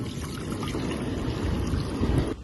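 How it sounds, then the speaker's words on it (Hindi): Water is poured into a kadhai wok on the stove, a steady low rushing splash close by that continues for about two seconds, then stops abruptly. "ऐड करेंगे कढ़ाई में पानी"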